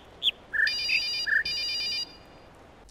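A telephone ringtone sounds indoors, a few chirping tones followed by a steady electronic ring lasting about a second and a half, fairly clear over a quiet background.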